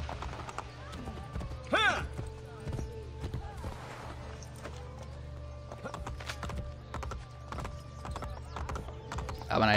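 Horse hooves in Assassin's Creed Brotherhood clip-clop steadily under continuous background sound, with occasional sharper thumps and a brief whinny-like squeal.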